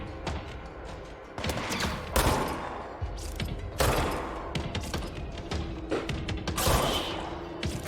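Gunfire in the video game Control, with dense rapid volleys of shots and sharp impacts repeating loudly throughout, no talk over it.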